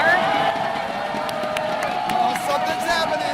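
A large crowd at BlizzCon cheers loudly and continuously in a big event hall, with shouting and babble layered over the roar and voices talking through it.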